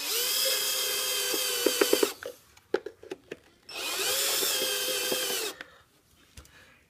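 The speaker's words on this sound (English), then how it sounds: "And we're just putting the screws back in. As long as you got a screw gun, it's real easy." A screw gun drives screws back into a hoverboard after a battery replacement. Two sustained whirring runs of about two seconds each come close up, separated by sharp clicks and handling taps.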